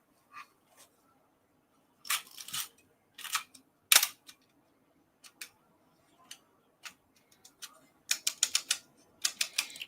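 Sharp clicks and snaps come in irregular bursts, some single and some in quick clusters, all close and crisp against near silence, as a Nikon FM2 film camera's shutter and mechanism are worked by hand.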